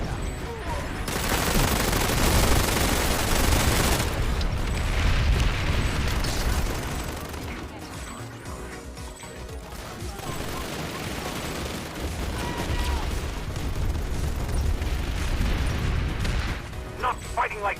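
Heavy gunfire and explosions in PlanetSide 2 rattle in dense, loud bursts of automatic fire with booming blasts, easing briefly mid-clip before building again, with a voice talking over the battle.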